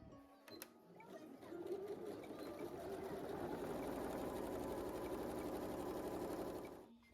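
Steady, close sewing machine hum and rapid needle chatter while stitching appliqué pieces for a cosplay costume, running continuously for several seconds after a few faint clicks.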